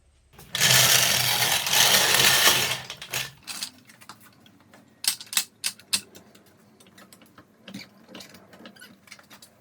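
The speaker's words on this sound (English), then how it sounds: "So let's jack it up and see if we've got movement there." A car being raised on a jack to check for a worn wheel bearing: a close, steady burst of mechanical whirring and rattling, then a run of irregular metallic clicks and clanks.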